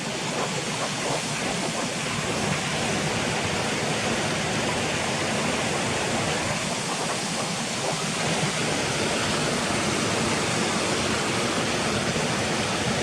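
Steady, dense rushing of falling water at the Swinner Gill waterfalls, a continuous roar that stays even and unbroken throughout.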